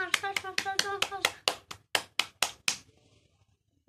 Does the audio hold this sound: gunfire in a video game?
no